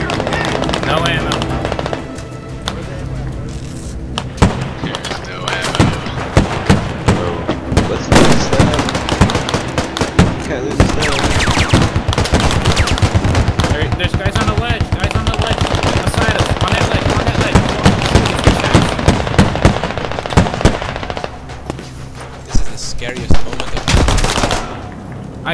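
Relentless automatic weapons fire and scattered explosions in a large-scale Squad battle at a dam, with dense overlapping bursts, near and loud throughout, while players shout over the din.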